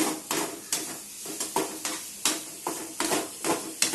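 A spiced mango pulihora mixture fries in a pan as a spoon stirs it, giving rhythmic scraping knocks against the metal roughly every half second over a soft, continuous sizzle.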